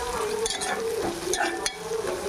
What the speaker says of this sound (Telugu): దొండకాయ ముక్కలకి మనకి ఫ్రై అయినాయి.